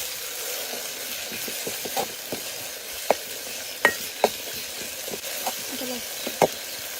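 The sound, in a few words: dried shrimp sautéing with ground spices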